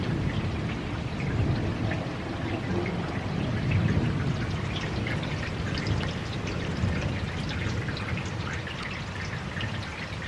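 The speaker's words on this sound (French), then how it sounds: "Ça pleut bien, hein. Ça tonne." Heavy rain pours steadily with low rumbling thunder rolling underneath, continuous and close, with no voices.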